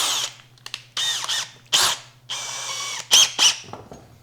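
A power drill bores a centered hole in wood in several short, loud bursts, each whirring up and stopping, with a faint steady hum underneath.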